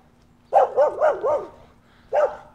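A dog barks close by, four quick barks in a row, then a pause and one more bark.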